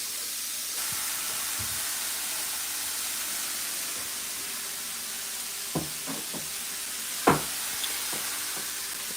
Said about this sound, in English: And that's what you want to hear, is a nice sizzle.